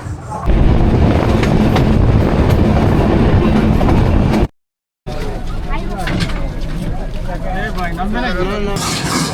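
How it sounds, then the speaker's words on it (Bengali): A crowded local train pulls out of Hatibandha station, a loud, continuous rumble and rattle of rail cars with rhythmic clatter, heard from onboard beneath chatter from passengers. "আমাদের ট্রেন হাতিবান্ধা থেকে ছেড়ে যাচ্ছে"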